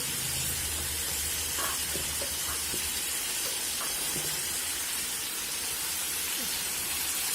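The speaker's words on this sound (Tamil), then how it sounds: "எண்ணெயிலேயே நல்லா ஒரு 5 நிமிஷம் நல்லா வதக்கணும்" Turmeric and spices sizzling in hot oil in a pan while liver fry is being cooked, a steady broadband hiss and crackle running throughout with a few faint clinks, heard alone at close range.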